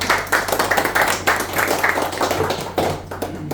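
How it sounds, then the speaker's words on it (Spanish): A church congregation claps together in a dense, steady burst of applause, close and lively, with no talk over it. "Démosle un aplauso al Señor."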